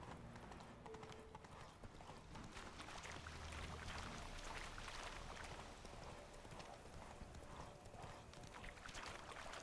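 Hooves of the horse Roach clip-clopping in a steady galloping rhythm through the Witcher 3 video game, continuous and fairly close with a busy background of game ambience and music underneath.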